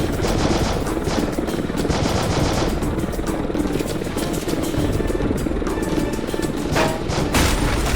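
Dense, continuous gunfire rattles in the video game Heavy Fire: Afghanistan, loud rapid bursts layered over a rumbling battlefield roar for the whole stretch.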